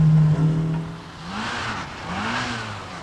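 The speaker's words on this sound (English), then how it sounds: "With the limited slip diff pulling the Mini around on the loose, I was finding the car a bit of a handful." A Mini rally car at the 1990 Telford Stages Historic Rally on a loose gravel stage, its engine droning loud and close, with the pitch swelling and dipping twice as the throttle rises and falls.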